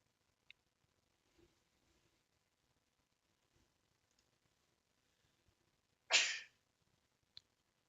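A single short, sharp sneeze bursts out loudly in an otherwise quiet room, with only a few faint clicks and breaths around it.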